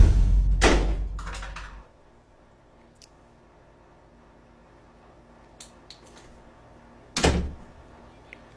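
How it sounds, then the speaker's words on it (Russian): Doors in an apartment open and close on their own. There is a loud bang near the start, a long quiet stretch with faint small clicks, and then a second sharp thud toward the end, with no talk. "Двери просто открываются и закрываются сами по себе"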